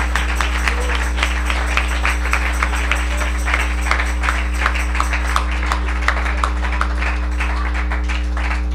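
Church congregation applauding during a Spanish-language praise service, a steady patter of claps spread across a hall over a constant low hum, with no voices standing out.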